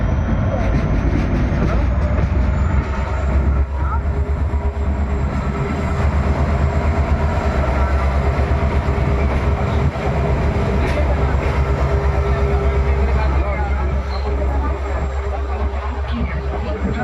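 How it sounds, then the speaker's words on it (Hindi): A Dayodaya Express train hauled by a WAG-9 electric locomotive approaches Vanasthali Niwai railway station, giving a loud, continuous rumble of rolling wheels and engine that holds steady throughout with no distinct horn. "सामने वैग 9 लोकोमोटिव के साथ आ रही है"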